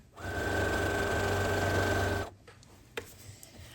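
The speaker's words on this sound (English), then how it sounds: "And I'll quilt the same one up and down." A sewing machine quilting a zipper pouch runs in one steady, loud, buzzing burst for about two seconds, then stops, leaving faint handling noises and soft clicks.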